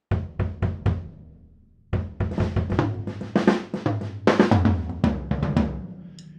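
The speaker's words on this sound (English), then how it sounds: "The drums all set up sounds like this." A full drum kit with rototoms and a floor tom, played in a quick fill: sharp separate hits first, a short pause, then a dense run of tom and cymbal strikes, moderately loud and close, without talk.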